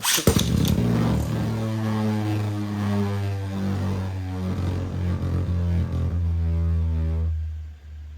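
A Beyblade Burst Astral Spriggan top in stamina mode spins on a sharp tip, giving a steady whirring hum with tonal whine that drifts slowly in pitch for several seconds after a clattering launch, then abruptly cuts off near the end.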